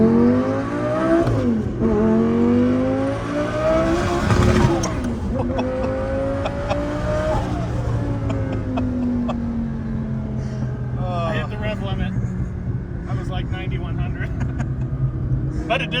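A 2000HP Lamborghini on a wet road accelerates in a mild pull, its engine note climbing through several gear changes with a loud, close interior roar while people talk over it.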